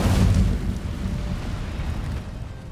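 The Incendio fire spell in Hogwarts Legacy lets out a loud, roaring burst of flame that fades into a sustained rumbling crackle, with no voices.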